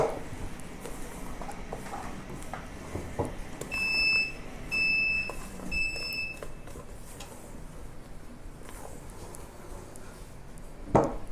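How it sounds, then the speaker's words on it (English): A set of three electronic beeps sounds close by from an oven reaching 170 degrees, evenly spaced, against a steady background hum, followed by quieter kitchen noises. "the oven internal temperature has reached 170. That's why it beeps a few times."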